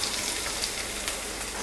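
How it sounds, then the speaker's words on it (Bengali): Garlic cloves and a large, finely chopped onion fry in lightly heated oil, giving a continuous, even crackling sizzle with no talking. "তেল হালকা গরম হয়ে এসেছে, এবার আমি এতে দিয়ে দিচ্ছি 3 থেকে 4 কোয়া রসুন আর একটা বড় সাইজের পেঁয়াজ কুচি"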